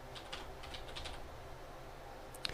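Soft typing on a computer keyboard, a few scattered light key clicks with one sharper tap near the end, quiet and close, with no speech.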